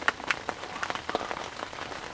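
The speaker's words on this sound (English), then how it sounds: "now, as you can see, it is raining." Rain pattering onto a river and the surroundings at a fishing swim, scattered close drops ticking irregularly over a soft steady hiss, with no talk.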